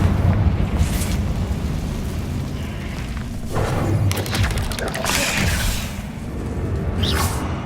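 A Confringo blast spell in Hogwarts Legacy, heard as a series of whooshing bursts and deep booming impacts that rise and fade among loud rumbling ambience.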